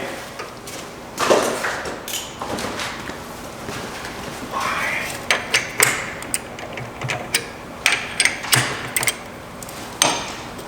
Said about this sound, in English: Just got to extract my socket out of here.